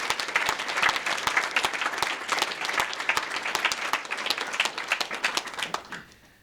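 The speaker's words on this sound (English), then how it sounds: "So round of applause for those top 5 finalists" An audience at an animation industry presentation applauds the top five finalists of a game development contest. The clapping is dense and sustained at moderate volume, then fades away in the final second.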